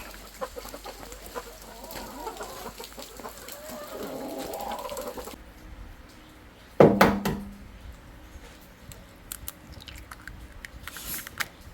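Chickens cluck steadily as they are herded into a coop, a low murmuring flock, then a sudden loud knock or bang followed by a few sharper clucks and faint rustles.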